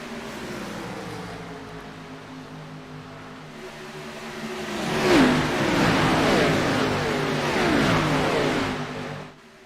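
Race car engine in a racing video game, an Xfinity Series stock car at Atlanta, droning steadily then swelling into louder revving from about five seconds with rising and falling pitch as the throttle is worked.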